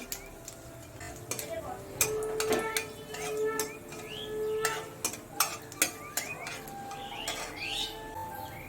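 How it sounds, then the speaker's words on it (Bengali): Dried red chillies and nigella seeds fry in hot oil with light crackling and sharp ticking pops, while a spoon knocks against the pan in scattered bursts, close and fairly quiet. A voice talks at times over the frying. "এবার দুটো শুকনো লঙ্কা দিয়ে দেব, একটু কালো জিরে দিয়ে দেব, দিয়ে একটু ভেজে নেব"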